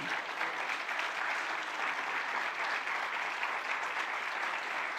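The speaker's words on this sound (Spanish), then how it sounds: "Alguien que le dé un aplauso al Señor y diga amén a eso" A church congregation applauds steadily, a dense wash of clapping hands that holds at an even level throughout with no pauses.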